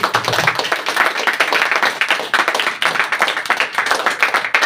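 A church congregation claps for the Lord in worship, a loud, brisk burst of many hands with sharp individual claps standing out, continuing steadily without speech.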